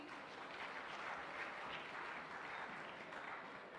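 Faint, even applause from an audience at a centurion academy's 16th annual celebration honoring people who help NDA and SSB aspirants, a distant continuous patter with no speech.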